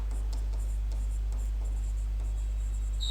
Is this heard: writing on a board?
yes